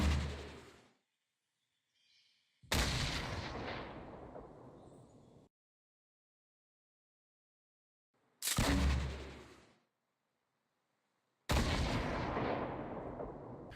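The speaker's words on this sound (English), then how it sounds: "You'll know the distance is right if you shoot the grenade and it explodes right on top of the enemy base without bouncing" Grenade launcher rounds exploding in Fortnite Battle Royale: four loud booming blasts, each followed by a long decaying rumble, separated by stretches of silence.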